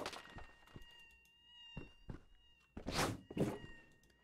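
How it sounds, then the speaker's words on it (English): A cat meows a few times in Sludge Life 2 while rotating on a fan, its calls mixed with soft thunks and steady tonal background music, with a louder, fuller cry near the end. "Even from here, I can still hear that cat rotating on the fan."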